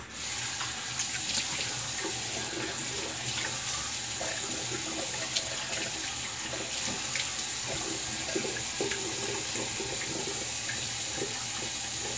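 Tap water runs steadily into a sink for rinsing after a shave, a continuous close hiss and splash with no breaks.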